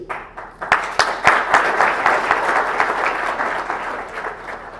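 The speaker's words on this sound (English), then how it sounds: "You gave him a round of applause" An audience applauds Congressman Steve Israel at a Pacoli event, with steady, dense clapping that builds after a few sharp early claps and carries on loud and unbroken to the end.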